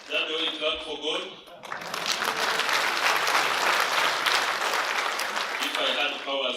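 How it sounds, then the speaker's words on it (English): An audience claps steadily at an annual general meeting held at a school, a dense, loud burst of applause that fills several seconds, with a voice speaking over amplification just before and after it. "Is that the way you clap for God?"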